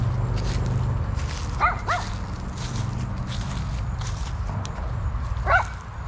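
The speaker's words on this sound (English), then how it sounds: "He don't even know what he's barking at." A miniature schnauzer lets out three short, sharp yipping barks, two close together and one a few seconds later. The barks sound fairly near, over a low rumble of outdoor background noise.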